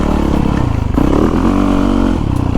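A Yamaha YZ450FX 450cc four-stroke dirt bike being ridden, its engine loud and close with a rough rev that climbs sharply midway, then holds a steady pull.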